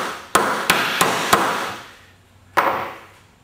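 A hammer strikes a chisel cutting along a marked line while a door is hung: four quick, loud, close taps in a steady rhythm, a pause, then one more tap, with no talking.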